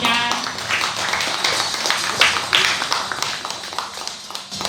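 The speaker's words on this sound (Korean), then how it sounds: "큰 박수 부탁드립니다" Audience at a Buddhist book launch ceremony breaks into dense, loud applause, many hands clapping at once in a sustained burst that thins slightly toward the end.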